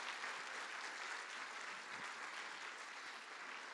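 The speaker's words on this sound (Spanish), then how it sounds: "para el cual le pido por favor un aplauso" A steady wash of audience applause for the host of a Spanish-language talk, dense continuous clapping sustained throughout, moderately distant with no voices over it.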